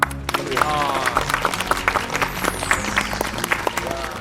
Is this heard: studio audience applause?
yes